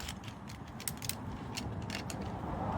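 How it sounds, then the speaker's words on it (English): Metal rescue pulley on a rope mechanical advantage system being closed, giving a dense run of small mechanical clicks and ratcheting rattles over steady background noise, close by and moderately loud. "We close that pulley. That's just a change of direction."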